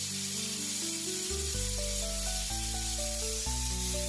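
A pressure cooker on a gas stove gives a steady, fairly quiet hiss that runs unbroken throughout, with background music of held tones shifting in steps over it.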